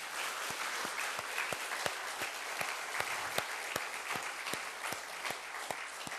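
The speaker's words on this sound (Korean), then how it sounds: "큰 박수를 환영합시다" A church congregation claps together in a steady, rhythmic beat, each sharp clap sounding in unison over a soft background of scattered applause.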